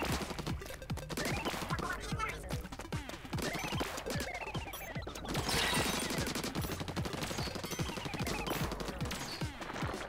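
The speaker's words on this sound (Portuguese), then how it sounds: "Ele atira muito rápido, esse sniper" A sniper weapon firing in rapid succession in Splatoon 2's Octo Expansion, a steady stream of quick, sharp shots repeating evenly for the whole stretch amid busy game sounds.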